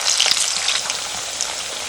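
Potatoes fry in oil in a hot iron wok, producing a steady, close, bright sizzle with small crackles and spattering throughout, no voices heard.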